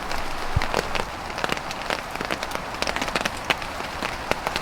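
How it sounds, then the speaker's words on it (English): Steady rain patters on a tarp stretched over a hammock camp in woodland, a dense continuous hiss of drops with scattered sharper taps, moderately heavy but not torrential, with no voices. "So it's been raining now for about 2 hours non-stop."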